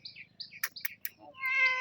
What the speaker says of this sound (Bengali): এই বিড়ালটা আইছে খাইতে